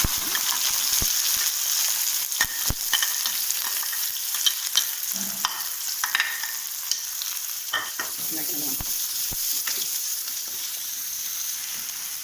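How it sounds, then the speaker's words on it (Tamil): Onions frying with mustard seeds in hot oil for a mushroom masala dosa filling, a continuous close sizzle broken by sharp pops and scraping clicks, with no talking. "கடுகு பொரிஞ்சதும் இப்போ ஆனியன் போட்டுக்கோங்க."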